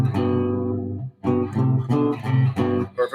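Clean guitar melody played with a harmony line a third above, several short phrases of plucked notes separated by brief gaps, close and moderately loud.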